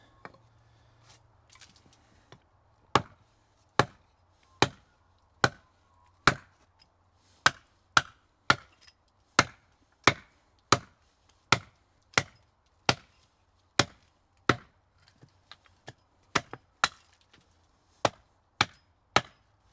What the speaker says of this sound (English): I'll just axe out the crank about there